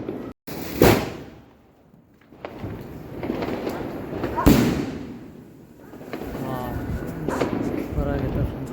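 Firecrackers set off during crackers testing burst in two loud booming blasts a few seconds apart, each trailing into crackling pops and rumble.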